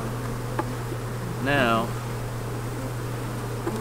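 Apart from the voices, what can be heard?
honey bees buzzing around a small nuc box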